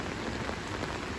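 Steady rain pours onto an open back porch with no roof, a dense unbroken hiss of drops striking the surface, loud and close with no voices.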